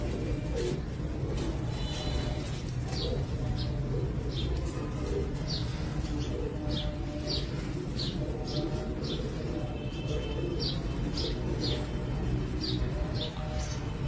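Pigeons of good breeds cooing and chirping in a loft, a steady series of short repeated calls spaced across the span over a constant background hum, fairly close.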